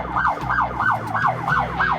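A movie-accurate siren on a Mad Max replica police car wails in a rapid, regular up-and-down cycle, about three sweeps per second, loud and near over a low engine rumble.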